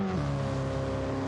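Racing car engine in Gran Turismo 7, a historic sports car race, holds a steady, loud droning tone that dips in pitch early on, then runs on evenly with no talk over it.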